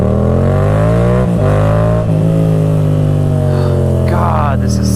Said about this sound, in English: That is like the deepest note I've ever heard on a bike like this.